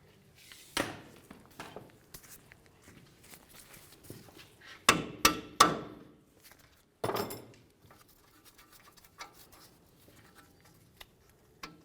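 Several sharp metallic hammer strikes driving a bolt out of a rear knuckle on a 2002-2005 Ford Explorer, a few isolated and then a quick cluster of three, with quieter clinks and handling noise between.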